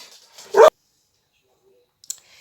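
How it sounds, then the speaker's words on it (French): A small house dog gives one sharp, close bark, followed by a brief faint yip after a silence. "mon chien avait entendu les voisins partir"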